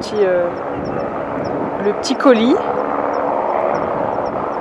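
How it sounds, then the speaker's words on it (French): Helicopter resupplying a mountain refuge high in the Mont Blanc massif: a steady, loud rotor and engine drone heard throughout, with a person speaking over it. "il y a un hélico qui est en train de ravitailler un refuge plus haut dans la montagne"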